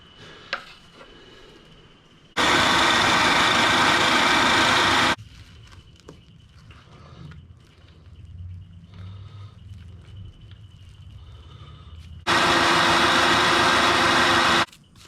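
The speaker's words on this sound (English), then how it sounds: "by trying to overcrowd my little food processor here, I've actually made it harder work than it should have been" A small, overcrowded food processor grinds falafel mix with garlic, running loud in two separate bursts of a few seconds each, with quieter kitchen clatter in between.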